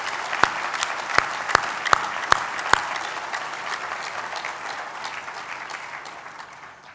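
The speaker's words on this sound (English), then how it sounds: "Please join me in a round of applause for our Chancellor, Mr. George Pappas." A graduation ceremony audience in a hall applauds the Chancellor with sustained clapping, a few sharp individual claps standing out early before the applause gradually thins and fades.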